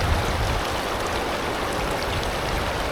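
River water rushes steadily over rocks on the Nambalan River, a dense, even wash of flowing water that holds at the same level throughout with no voices.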